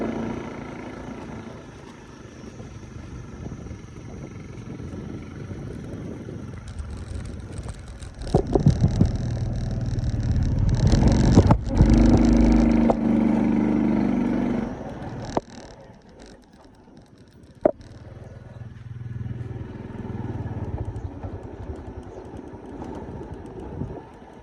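A motorbike rides along a good village road, its engine drone steady and close with wind buffeting, a few sharp knocks and bumps along the way, and a brief dip in level midway.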